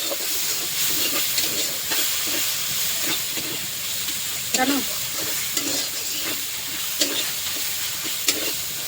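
Cumin powder and other ground spices fry in oil in a pan before jackfruit is added, producing a steady hissing sizzle broken by repeated rhythmic scrapes and clicks of a stirring spatula.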